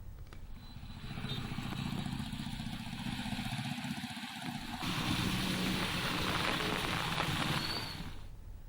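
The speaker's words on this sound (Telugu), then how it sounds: "హైదరాబాద్ నగరంలో విస్తారంగా వర్షాలు కురుస్తున్నాయి" Heavy rain falls over Hyderabad city streets during a multi-day downpour, a steady, loud broadband hiss mixed with the low rumble of passing motorcycle and vehicle engines, with no voices.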